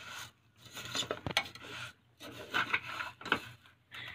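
Vermicelli being stirred as it roasts in a pan on the stove, a series of soft scraping and rubbing strokes in uneven bursts with short pauses, close and fairly quiet.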